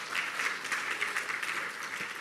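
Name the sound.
audience applause for the panelists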